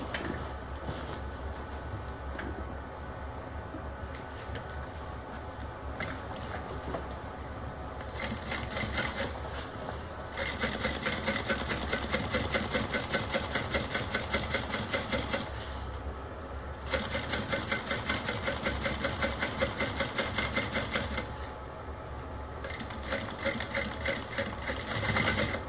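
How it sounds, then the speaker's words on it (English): A sewing machine runs in long, loud, rapid bursts while top stitching a bag seam, pausing briefly between runs. "now I'm going to top stitch this side"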